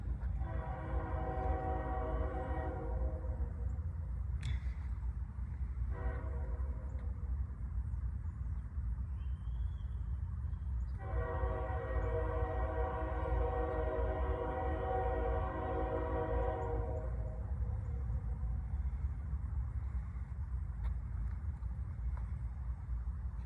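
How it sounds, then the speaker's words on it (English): A train rumbles by continuously, its horn sounding in two long blasts with a short one in between, loud and fairly close. "Yep, I was right, another train."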